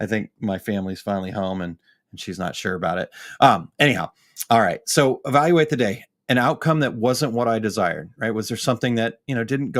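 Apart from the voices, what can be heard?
No distinct noise like a dog, phone or traffic.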